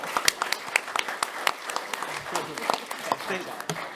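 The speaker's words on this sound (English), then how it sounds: "Give them a big round of applause." An audience applauding, scattered sharp claps from a modest crowd with uneven rhythm, and voices talking through it.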